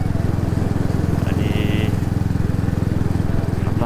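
Royal Enfield Bullet motorcycle riding along a road, a steady low engine drone with continuous rumble throughout, loud and close, with wind noise over it.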